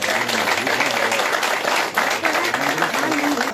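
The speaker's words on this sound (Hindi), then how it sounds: "तालियों से स्वागत" Applause and clapping from a gathered crowd welcome a senior Congress leader joining the BJP, loud and continuous, with voices talking over the clapping throughout.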